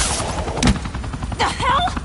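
Police officers firing guns in the Batman The Enemy Within video game: a short, loud volley of shots cracks out, with a jumble of scattered game noise around it.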